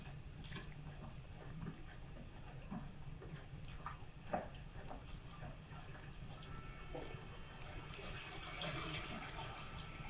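Water flows steadily along a levada irrigation channel in Madeira, a continuous close trickle and gurgle with small splashes and a brief sharp knock partway through.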